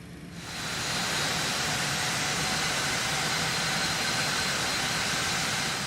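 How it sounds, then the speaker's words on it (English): Cessna Citation X jet engine number one spooling up in X-Plane 12, a steady broad roar and whine that swells within the first second and holds loud and constant. "And now we're firing up engine number 1."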